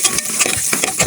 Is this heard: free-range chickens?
no